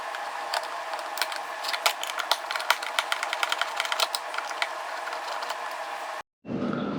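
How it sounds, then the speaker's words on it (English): Phillips head screwdriver unscrewing an outlet cover plate, rapid irregular ticks and small metallic clicks of the screw turning, close and fairly steady for about six seconds before a brief pause. "Take our Phillips head screwdriver,"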